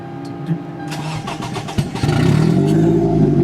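Toyota Highlander engine with freshly repaired catalytic converters cranks for a moment, catches, and settles into a loud, rough, rumbling idle that swells after starting, close to the microphone.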